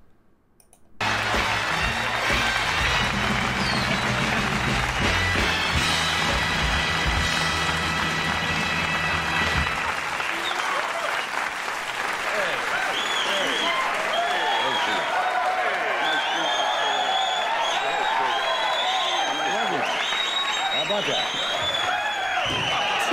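A comedy club audience bursts into loud applause and cheering for about nine seconds, then someone talks as the clapping fades.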